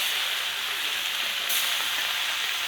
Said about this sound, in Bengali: তার জন্য আমি মাছটাকে ভেজে নিচ্ছি।